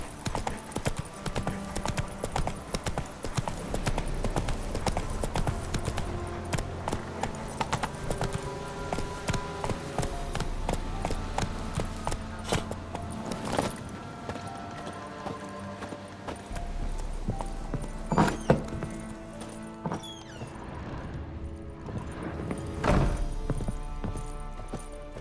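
Roach the horse gallops in The Witcher 3 on PS5, with rapid hoofbeats that go on and on over a backdrop of game music and ambience, plus an occasional snort.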